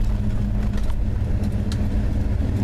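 A truck with a burned pulley rumbles along on its first drive in six months, a steady low engine drone heard from inside the cab, with no talking.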